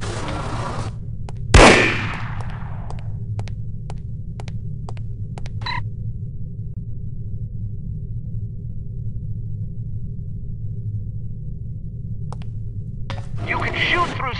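One loud, close gunshot in the No One Lives Forever video game rings out and decays, followed by a steady low electronic hum, sparse faint clicks and a brief burst of game sound near the end.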